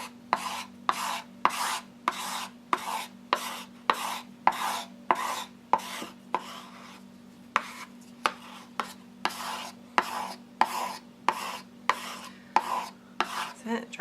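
Light buttermilk cream paint scraped across a journal page, a steady run of about twenty short, even rasping strokes, close and fairly quiet, with no voices.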